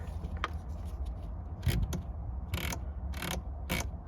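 Mazda FC RX7 pop-up headlight motor mechanism, a series of short mechanical clicks and whirring clunks in an irregular rhythm, close and fairly quiet inside the car, with no talking.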